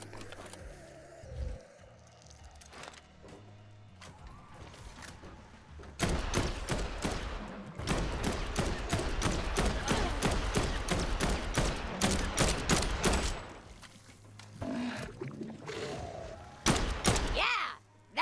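Bursts of rapid gunfire in the zombie game Dead Island 2, with sparse early shots giving way to a long dense volley of loud, close cracks, then scattered shots near the end.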